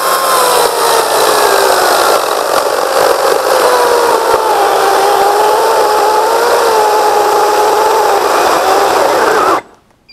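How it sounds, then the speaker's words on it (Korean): A 36V cordless chainsaw on its low setting cuts through thick wood, a loud steady whine with a wavering, labouring pitch sustained for about nine seconds before stopping abruptly. "로우로 놓으면은 속도는 빨랐지만 이렇게 굵은 나무를 자를 때 오는 부하를 이겨내는 힘이 없습니다"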